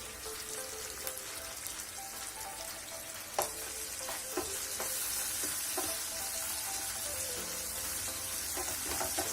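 Onions and tomatoes sizzle steadily in hot oil for a dried fish curry, with curry leaves in the pan, a continuous frying crackle broken by a few sharp clicks of stirring, close and alone.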